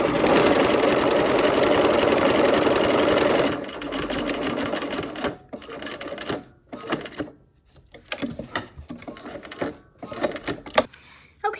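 A sewing machine stitches fabric at an angle, first in a steady loud run for several seconds, then in short stop-start bursts separated by brief pauses.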